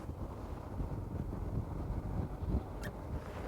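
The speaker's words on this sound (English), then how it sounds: "There's lots of gusts in this wind" Gusty wind buffets the microphone aboard a Sessa C42 motor boat held steady near a wharf, a continuous loud rumbling roar that swells and eases with the gusts, with no talking.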